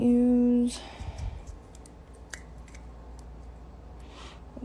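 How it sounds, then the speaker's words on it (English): Regular scissors snip craft wire for a stackable bracelet, giving a few sharp, isolated clicks and snaps over a quiet background after a brief tone at the start. "You can use regular scissors or your wire cutters."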